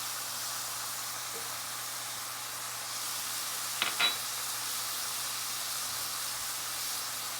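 Ginger sautéing with onions in a pan for coconut milk and mushroom salmon, a steady faint sizzle and hiss throughout with a brief clatter of stirring midway, no talking.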